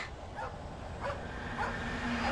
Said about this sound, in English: Oh, Max is barking.